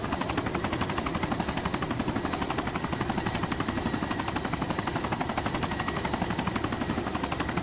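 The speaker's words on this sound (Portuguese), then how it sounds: "Olha o helicóptero" A helicopter in a video game, steady rapid rotor chopping that is loud and continuous, heard alone with no talk.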